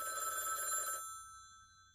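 A telephone rings once in a short electronic trill, then cuts off and its tone lingers and fades into quiet.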